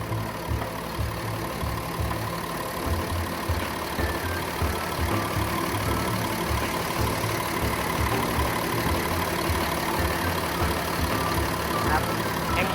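A 2021 Komatsu WA470-10 wheel loader's six-cylinder turbocharged diesel runs steadily at idle close by, a low rumbling drone with a faint rhythmic pulse throughout.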